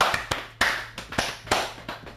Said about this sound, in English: We got to do a soul clap.